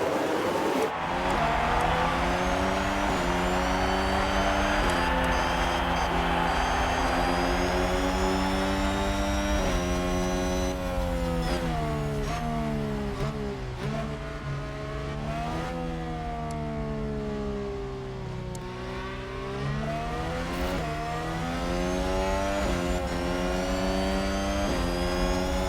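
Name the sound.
F1 cars accelerating at race start, video game F1 Manager 22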